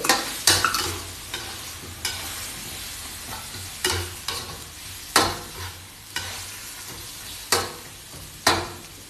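A spoon scrapes and stirs through a simmering Thai bamboo shoot curry with crisp round eggplant added, producing repeated separate stirring strokes over a soft bubbling sizzle, with no talking.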